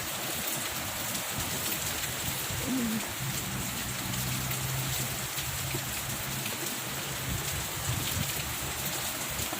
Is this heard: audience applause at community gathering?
no